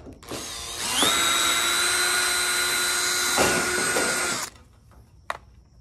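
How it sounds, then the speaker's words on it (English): A power drill whines loudly and steadily for about three seconds as it bores through thin gutter metal for a pop rivet, then winds down, followed by a small clatter. "I got a drill and a pop rivet. And basically I got a drill through here"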